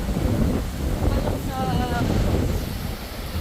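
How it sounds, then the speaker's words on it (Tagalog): Strong wind at a beach roars and buffets the microphone continuously, a heavy low rumble throughout, with a brief voice underneath. "Sobrang hangin."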